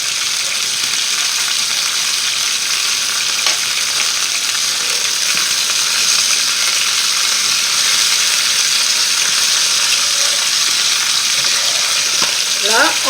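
Chicken pieces fry steadily in a pan for a coconut curry, a dense continuous sizzle with faint crackles and pops throughout, loud and close with no talking.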